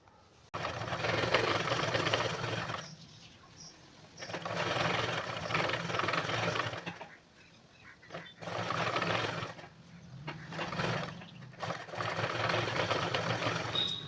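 An electric sewing machine stitches a blouse sleeve in several long whirring runs of rapid mechanical stitching, separated by short quiet pauses, steady and close with no speech.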